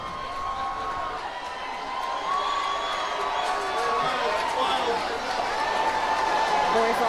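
Crowd cheering at a championship parade, a dense, continuous wash of shouts and whoops that swells louder over several seconds, with a voice speaking close by over the roar.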